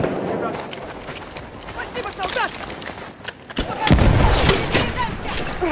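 Mosin-Nagant rifle fire in the video game Battlefield 1, with loud sharp shots and booms scattered through a busy battle mix, one heavy burst near the end.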